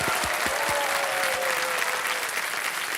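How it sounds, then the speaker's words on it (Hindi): Studio audience applause for a contestant on the KBC quiz show, a loud, dense and continuous roar of clapping from a large crowd, with a faint tone underneath. "एक बार जोरदार तालियां हो जाए चंचल सिंह के लिए"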